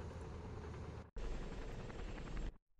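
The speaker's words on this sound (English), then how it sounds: "Helicopter is coming in." Helicopter rotor and engine roar in the Call to Arms war game, a dense steady wash of broadband noise with a low thumping beat, loud and close, briefly cut off for an instant before resuming and then stopping abruptly.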